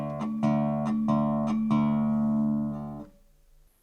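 Acoustic guitar played in a Travis-picking style, with four evenly spaced plucked bass notes in 4/4 time ringing out over sustained chord tones, clear and close, then fading into near silence.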